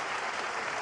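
A snooker crowd at the Shanghai Masters applauds a clearance by Ding Junhui, a steady full-bodied clapping that fills the whole short moment without pause.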